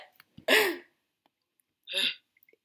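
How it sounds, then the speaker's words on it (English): A sneeze bursts out loud and close, with a short breathy intake before it, followed about a second and a half later by a second, softer sneeze-like burst. "Why are you sneezing so much?"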